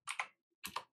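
Computer keyboard typing: two quick pairs of crisp key clicks, close and quiet, with a short pause between them and no voices.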